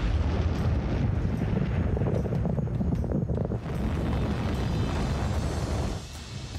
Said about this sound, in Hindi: एक ही दिन में पुतिन की सेना ने करीब 100 मिसाइल हमले कर यह जता दिया है